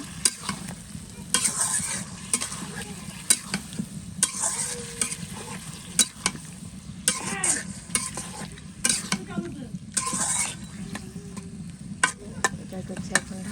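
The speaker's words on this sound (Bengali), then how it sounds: "এটাকে ভালো করে কষাইয়া নেব" Food being stirred and sautéed in a frying pan: a spoon scrapes and clatters in irregular bursts over a steady, soft sizzle close by, with no speech.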